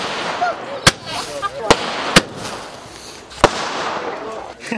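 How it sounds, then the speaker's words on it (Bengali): Fireworks at a night wedding celebration go off in four sharp, loud bangs spaced a second or so apart, with a few fainter pops. A continuous murmur of crowd noise fills the background. "একের পর এক আতশবাজিতে আলোকিত হলো অন্ধকার আকাশ"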